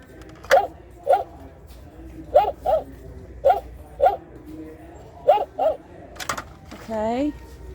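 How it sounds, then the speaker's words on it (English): A battery-powered animal-shaped flashlight toy gives off a series of short electronic dog barks, mostly in pairs, evenly spaced and close by. A final warbling whine follows. "Let's see what the dog does."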